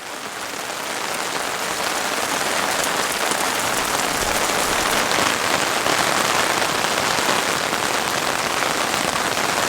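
Heavy rain drums hard and steadily on the taut fabric of a KEA 2 tent, a dense, unbroken hiss of close pattering with no talking.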